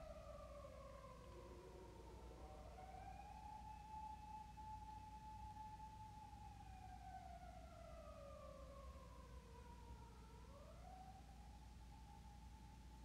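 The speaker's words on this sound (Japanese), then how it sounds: "大丈夫かな、ピーポーなってる。" An emergency vehicle siren wails outside, heard faintly in the distance through a quiet room, its tone sweeping slowly up and down in long continuous glides.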